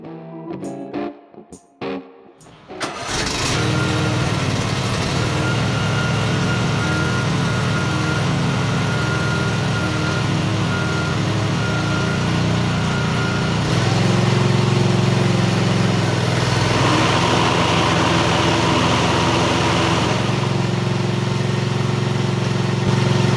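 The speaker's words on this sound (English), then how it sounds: "I always check the mower deck for proper function in the garage before I actually go try it, just to make sure it sounds right and everything's moving" A Cub Cadet XT1/XT2 lawn tractor starts up in a garage and runs with its mower deck engaged, a loud steady engine drone with spinning blades whining over it, shifting pitch partway through.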